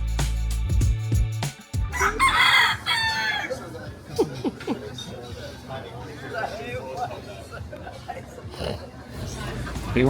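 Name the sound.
person imitating chicken noises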